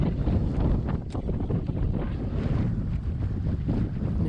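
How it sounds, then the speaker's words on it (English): Steady wind buffets a sailboat under sail near Beaufort Inlet, a dense, continuous roar with microphone gusting and a faint wash of water beneath, loud and unbroken throughout. "This wind is increasing."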